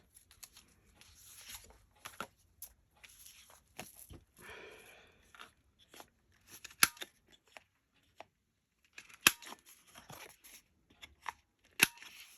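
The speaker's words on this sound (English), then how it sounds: "let's trim a little bit off the bottom here." Scissors trimming the bottom edge of a paper journal cover, a series of short, crisp snips and rustles in a quiet room, scattered in small clusters with sharper clicks near the end.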